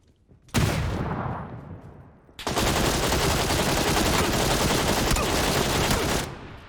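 Gunfire in PUBG on Xbox Series X: a single loud shot with a fading echo, then after a pause a long, dense run of rapid automatic fire that cuts off abruptly.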